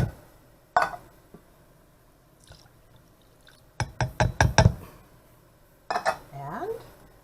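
A whisk rattles quickly against a bowl as milk mixture is stirred, a burst of fast metallic clicks preceded and followed by a few isolated clinks and a pour-like splash, with a voice briefly speaking.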